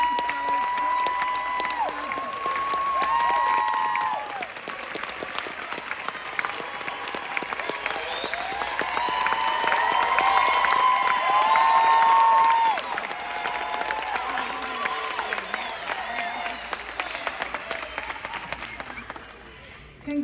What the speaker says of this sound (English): Let's give a round of applause for our Take Stock and Children Johnson